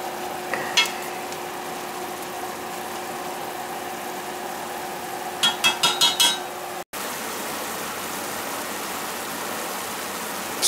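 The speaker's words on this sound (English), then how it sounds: "I'll throw in the charisse, because the charisse is already pre-cooked. It's a matter of browning it up a little bit." Pre-cooked chorizo browns in a pan for Thanksgiving stuffing: a soft, steady sizzle under a constant kitchen hum, with a cluster of quick utensil clicks and scrapes midway.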